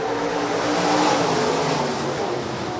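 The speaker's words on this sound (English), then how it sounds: "Third and final heat race for the USRA Stock Cars" USRA Stock Cars roar together in a heat race at Rapid Speedway, a loud, steady wall of engine noise from a pack of cars running close by, with no voices over it.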